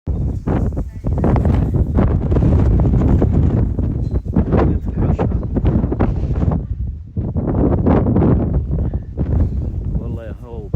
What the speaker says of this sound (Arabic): والله يا هوا وبرد